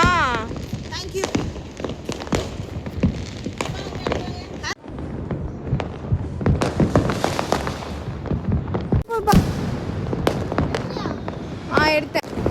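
Deepavali firecrackers bursting outdoors during a family celebration, repeated sharp cracks and pops scattered throughout with a couple of louder bangs, mixed under frequent chatter and voices nearby.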